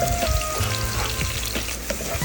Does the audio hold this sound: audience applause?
no